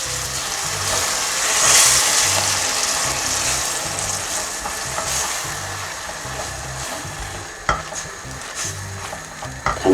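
Crushed tomato fries in a pan while being stirred, a steady bright sizzle under periodic scraping strokes of the spoon, close and continuous with a few louder clatters near the end.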